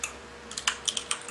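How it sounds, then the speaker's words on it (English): Keys clatter on a computer keyboard as someone types chat replies during a podcast, with quick, crisp, close clicks in short irregular bursts and nothing else. "I'm typing the chat."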